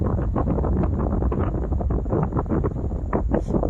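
Gusty wind buffets a microphone high up in a tall forest tree during wild honey collection, a loud continuous rumble and rush with irregular surges throughout.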